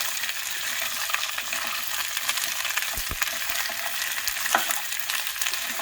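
Multicoloured vegetables for sweet and sour sautéing over high heat, a steady close sizzle with clinks and scrapes of the utensil against the pan.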